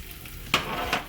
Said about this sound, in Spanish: Ya tengo una sartén aquí con 3 cucharadas de aceite precalentada a temperatura media alta. Vamos a agregar lo que son nuestras cebollas,